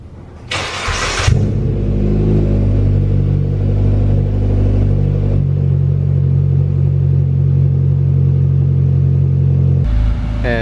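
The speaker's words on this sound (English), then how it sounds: "let's go ahead and give it a cold start and move it out of the garage" A turbocharged Mitsubishi Lancer cold-starts in a garage with a brief loud cranking burst, then the engine catches and settles into a steady, strong, close idle that continues for several seconds.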